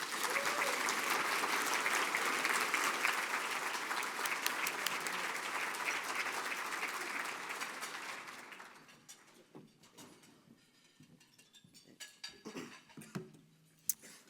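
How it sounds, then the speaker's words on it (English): A crowd of about 500 people applauds at the Marion State of the City 2023 gathering: sustained, full applause for several seconds that tapers off and ends, leaving a quieter room with scattered small knocks and shuffles. "So let's all give a round of applause to Andrew."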